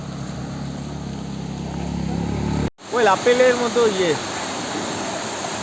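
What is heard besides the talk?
waterfall sound nearby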